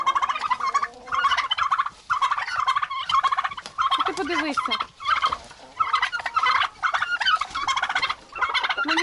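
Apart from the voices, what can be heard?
turkeys gobbling while fighting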